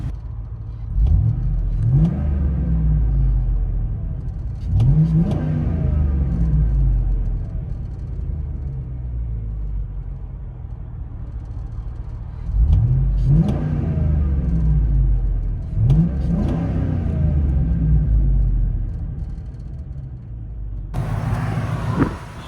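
2006 Hummer H2 6.0L V8 with a Flowmaster 40 Series dual-in single-out exhaust, heard from inside the cabin: a low muffled rumble at idle broken by four deep revving bursts that rise and fall back.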